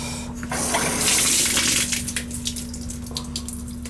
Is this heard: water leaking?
yes